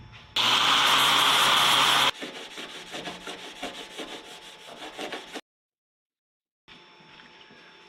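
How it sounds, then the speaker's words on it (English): Burr being cleaned off a freshly fitted rib nut (rivet nut) during fabrication of custom side pipes for a pro touring Nova, heard as a loud steady rubbing, filing scrape that drops to lighter strokes, stops, then resumes faintly. "we're just going to clean that burr off right there"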